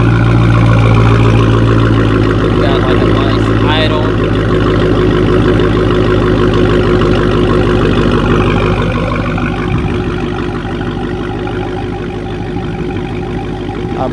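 Deep, steady idle from a Dodge Hellcat's engine, loud and close, with a low rumble that continues evenly and eases slightly toward the end.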